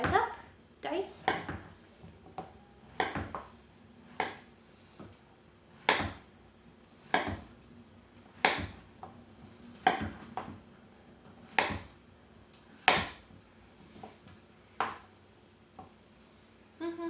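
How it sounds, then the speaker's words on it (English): Knife chopping and dicing zucchini and squash on a cutting board in a home kitchen, about a dozen sharp, evenly spaced chops fairly close, with a low kitchen background hum and no talking. "I'm going to cut these guys up, diced."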